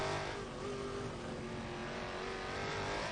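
A hypercar sweeps through the final corner and hugs the wall on the exit, its engine a loud, steady drone held close and continuous, with no voices over it.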